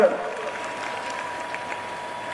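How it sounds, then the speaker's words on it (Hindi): An audience at a religious quiz competition held during an annual temple ritual festival claps in a short, moderate burst of applause that continues steadily under the room sound. "के लिए जोरदार तालियां बजाएंगे।"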